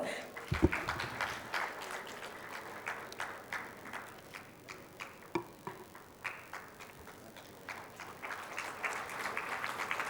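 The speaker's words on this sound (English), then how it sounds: "Ladies and gentlemen, let's put our hands together" Audience applause at a conference summit, a steady wash of clapping at moderate level with a few sharper individual claps standing out, continuing through the whole stretch.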